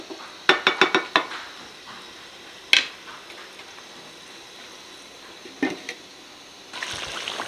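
Metal clatter around a chicken korma pot as a lid is set over it: a quick run of clinks, one sharp knock, then quieter rattles between soft pauses, close by.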